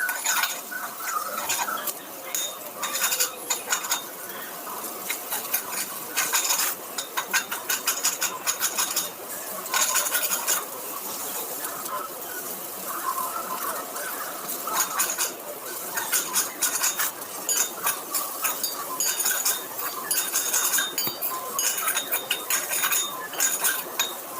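Egg fried rice with carrot is tossed and turned in a pan, with repeated metallic scrapes and clinks of a utensil against the pan throughout, steady and close.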